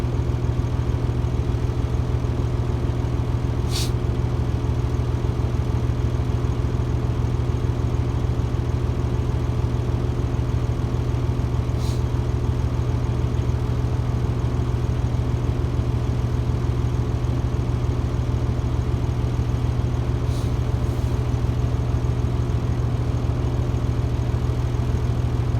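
A truck engine idles steadily during an air brake inspection while its air compressor builds pressure. A close, even low drone runs throughout, broken by a few brief faint high ticks.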